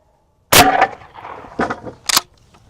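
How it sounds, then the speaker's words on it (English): A shotgun slug is fired into a block of wood outdoors: one sharp, loud gunshot cracks out of silence, followed by shorter clanking impacts and a final sharp knock as the echo fades. "Whoa, huge boom from the slug."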